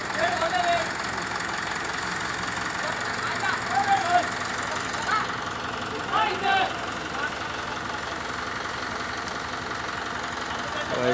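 A Mahindra 575 DI tractor engine chugs steadily at low revs under load, a constant dense diesel rumble with slight knocking pulses throughout, close and loud, while someone talks over it.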